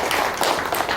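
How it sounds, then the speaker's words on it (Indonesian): Audience at a pension-preparation opening event clapping their hands, a brief burst of dense, fairly loud applause. "Tepuk tangan untuk beliau."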